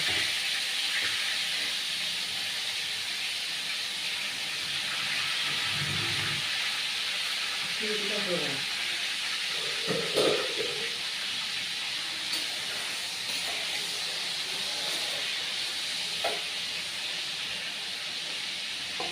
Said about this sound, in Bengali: পটলগুলো একটু ভালো করে ভাজতে হবে।